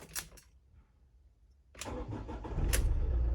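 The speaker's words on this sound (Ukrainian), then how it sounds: "Зараз запустимо двигун." After a few clicks and a quiet pause, a Ford Connect diesel van engine cranks and catches, settling into a loud, rough, rumbling idle.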